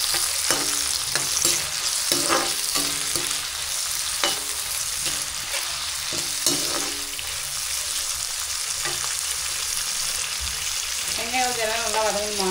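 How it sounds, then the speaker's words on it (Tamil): Onions sizzling in oil for a spicy crab gravy, stirred in the pan: a loud, continuous close frying hiss with repeated scraping stirs throughout, no voices. "வெங்காயம் நல்லா வதங்குமா?"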